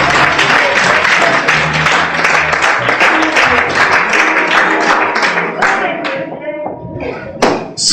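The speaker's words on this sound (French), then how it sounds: "Applaudissements." Church congregation clapping during a French-language sermon, a dense continuous round of applause with some thumps and instrument tones beneath, thinning toward the end.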